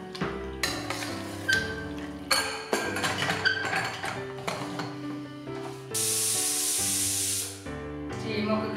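Steam hisses steadily from a covered pot of mutton cooked in coconut milk, a broad rushing burst lasting about two seconds amid kitchen clatter and taps.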